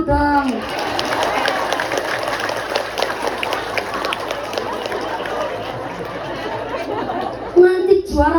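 An audience at a village circumcision thanksgiving gathering in Indonesia claps and chatters through a sermon break, a dense, steady wash of hands and voices lasting several seconds, with a speaking voice breaking in near the end.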